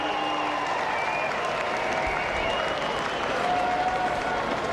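A cricket stadium crowd applauds Brett Lee's fast bowling with sustained, dense clapping and cheering at steady loudness, with faint commentary voices underneath.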